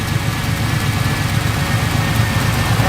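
A 2000 Pontiac Trans Am engine idles steadily with a deep, even low rumble, close and continuous with no talk over it.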